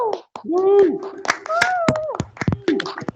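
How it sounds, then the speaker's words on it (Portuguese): Students in a Portuguese-speaking university classroom clap in a few sharp, scattered hand claps, mixed with lively overlapping voices talking and calling out. "uma salva de palmas pro Mário"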